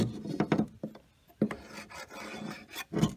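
An old wooden beehive frame is scraped clean of wax and propolis with a metal 5-in-1 hive tool, giving several short, close rasping strokes separated by brief quiet gaps.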